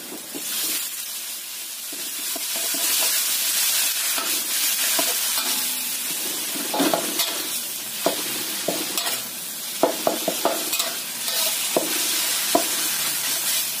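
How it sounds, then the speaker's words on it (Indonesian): Minced chicken sizzles with aromatics in a hot pan, a steady frying hiss broken by sharp spatula scrapes and clicks as the meat is stirred, close and fairly loud. "Kita tumis sampai bau wangi enak. Setelah bau wangi, masukkan ayamnya yang sudah kita cincang."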